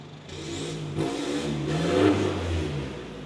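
A car engine revs loudly through its exhaust, swelling and easing in a continuous throaty roar, close by with no one talking.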